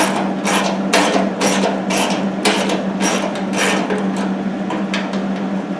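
Screws are worked out of a body bracket on a Triumph Spitfire, heard as repeated close scraping and rasping bursts over a steady low hum.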